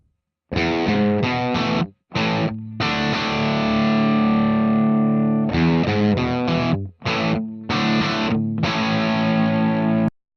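Crunchy distorted electric guitar through a Line 6 Spider V amp modeler plays choppy chord stabs and a long ringing chord, loud and close, with short silent gaps between bursts.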